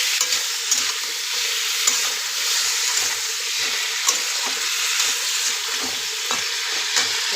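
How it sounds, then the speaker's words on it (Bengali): A tilapia fish curry base is stirred while frying in a pan, making a constant loud sizzle broken by regular scraping and stirring knocks close by. "ভালো করে নেড়ে, বেশি কষাবো না।"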